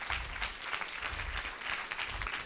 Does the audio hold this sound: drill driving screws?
no